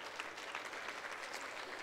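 Commencement audience applauding in a hall, a dense, steady patter of many hands clapping, heard faintly from a distance throughout.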